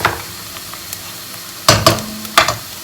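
Onions fry in a pan with a soft sizzle underneath, broken by a few loud clattering stirs of a utensil toward the end; no one speaks.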